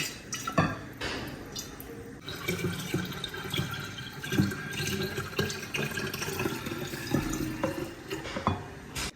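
Liquid sloshes and trickles into a container for several seconds, with scattered clinks and splashes, fairly close and steady.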